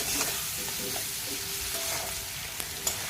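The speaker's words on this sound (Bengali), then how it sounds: "এবার ছেড়ে দিচ্ছি তেলের মধ্যে বেগুনগুলোকে" Eggplant pieces seasoned with turmeric and salt fry in hot oil, giving a steady close sizzle with a couple of sharp clinks or pops near the end.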